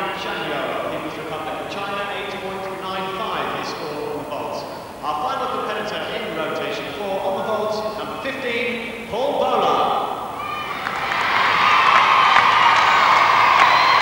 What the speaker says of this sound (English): And tremendous support from the home crowd for Karen.